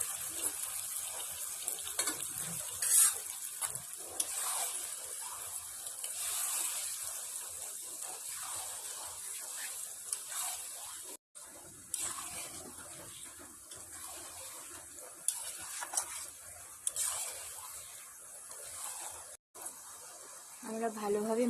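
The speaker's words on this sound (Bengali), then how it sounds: "আমরা ভালোভাবে মিক্সড করে নিয়েছি চিকেনগুলো মশলার সঙ্গে" Chicken pieces mixed with a dried red chilli paste, stirred and frying in a pan for chicken kasha, giving a steady broadband sizzle with scraping stir noises and brief pauses, while a voice talks over it.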